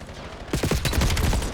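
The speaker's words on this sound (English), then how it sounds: "Great shots from Kex, though" Rapid gunfire from a Call of Duty Black Ops 7 tournament match, a dense burst of repeated shots starting partway in and continuing loudly to the end, with a quieter game ambience before it.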